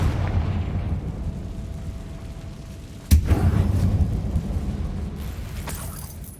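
A Confringo spell explodes in a closed mine tunnel in Hogwarts Legacy, making a single sharp, loud blast midway through over a steady rumbling ambience.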